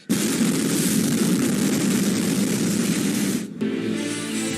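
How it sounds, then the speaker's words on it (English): A massive explosion in news footage: a loud, sustained broadband roar filling the whole clip that cuts out abruptly near the end, followed by a quieter hum. "There was a massive explosion."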